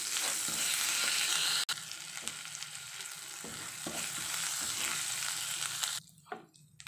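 Ginger-garlic paste and spices fry lightly in a pan with a dense, steady sizzle and scraping stirs, ending in a sudden drop to quieter crackles near the end.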